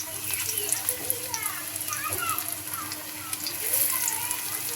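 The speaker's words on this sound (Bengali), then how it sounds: "আমি পাকোড়াটা দিয়ে দিচ্ছি। আগে তেল দিয়ে রেখেছিলাম তাওয়ায়।" Shapla pakoras, made from chopped boiled water lily stems mixed with spices, sizzle in oil on a tawa pan with a soft crackle and spatter, faint and close, while a voice is heard.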